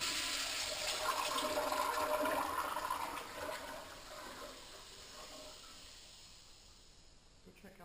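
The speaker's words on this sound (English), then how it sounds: "And we'll give this one a flush here." Porta potty toilet at an outdoor park restroom flushing with a rushing, gurgling swirl of water that peaks early, then fades to a quiet trickle toward the end.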